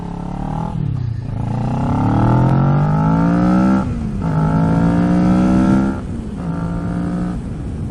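Motorcycle fitted with an Akrapovic exhaust revving and accelerating through several gear changes, a loud, close, rising engine roar with brief dips between shifts.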